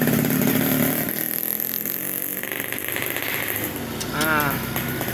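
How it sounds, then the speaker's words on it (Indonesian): A motorcycle passes by outdoors, its engine rumbling and revving at mid distance while a person talks over it. "ada motor"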